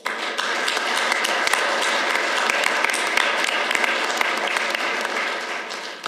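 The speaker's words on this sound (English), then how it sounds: "let's begin by giving them a well-deserved round of applause" A ceremony audience gives a long, even round of applause for military veterans, with dense clapping sustained at a steady level for the whole stretch.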